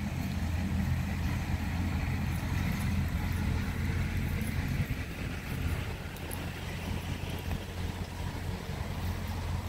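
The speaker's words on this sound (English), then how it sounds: "there's bush hogging going on right by us as we're doing videoing" A tractor bush hogging a nearby lower field gives a continuous low engine drone with a rough mowing rumble, steady and moderately close throughout.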